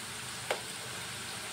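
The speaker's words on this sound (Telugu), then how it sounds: "ఇలాగే ఫ్రై చేసుకోవాలి." Bitter gourd pieces frying in a pan give a steady, faint crackling sizzle, with one brief sharper stir sound partway through.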